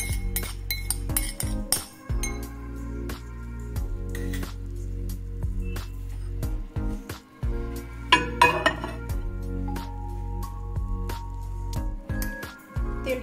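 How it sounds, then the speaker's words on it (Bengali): A spoon stirs spice tempering in a bowl for microwave sweet tomato chutney, giving repeated sharp clinks and scrapes against the bowl in an uneven rhythm, close and clear with no talk. "এবার এটাকে একটা চামচ দিয়ে ভালো করে মিক্স করে দেবো"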